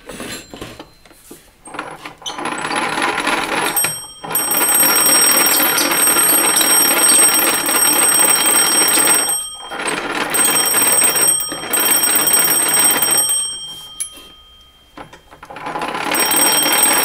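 A bell on an antique wall-mount telephone rings in long, loud, continuous metallic bursts, separated by brief pauses, as its hand-crank generator is turned during restoration.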